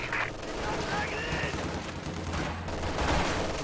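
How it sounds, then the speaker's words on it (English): ZiS guns firing on a 251 half-track in a World War II strategy game, dense crackling bursts of battle fire over a steady rumble, with a commentator talking throughout. "251 half track taking some Zis fire."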